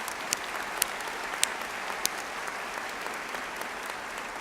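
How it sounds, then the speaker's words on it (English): Steady applause from a large crowd at a West Virginia University commencement ceremony, a dense even patter of clapping with a few sharper claps standing out, continuing throughout. "can we have another round of applause for our awesome graduation speaker?"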